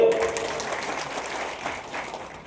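A crowd claps steadily, a dense patter of applause that fades slightly toward the end.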